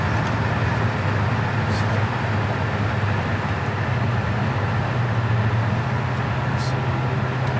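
A 1972 Chevelle Malibu cruises at highway speed, a steady loud drone of engine and road roar with wind noise heard from inside the car, unchanging for the whole stretch.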